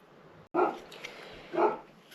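A polar bear dog barks outdoors, two fairly loud single barks about a second apart over a low background hum, with no talk.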